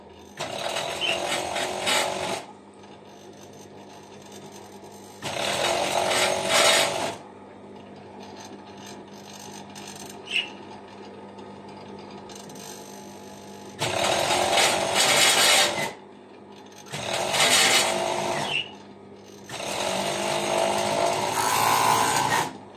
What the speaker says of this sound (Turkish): Evet, şimdi eteğimizi dikmeye başlıyoruz. Öncelikle arka ortasını birleştiriyoruz. Overlock'ta.